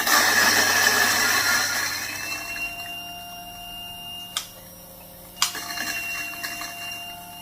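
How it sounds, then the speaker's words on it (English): A Fuji Royal coffee mill with a ghost burr grinding coffee beans: a rough, gritty grinding rush for the first couple of seconds gives way to a steady motor whine, broken by two sharp clicks. "So start the grinder first, open the catch."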